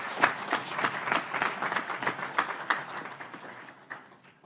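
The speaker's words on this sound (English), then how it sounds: "So I think we should give a round of applause to the United Nations" An audience applauding at a women's empowerment event, a steady burst of many hands clapping together that holds for several seconds and then thins out and fades.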